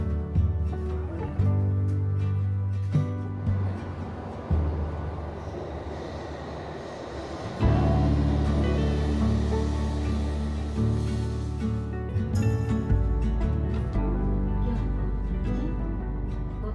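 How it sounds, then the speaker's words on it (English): Riding inside a Shinkansen bullet train: a continuous, loud rumble of the carriage with shifting wheel and rail noise, a brief high squeal near the end, and no talking. "Now it's time to take the bullet train to Kyoto"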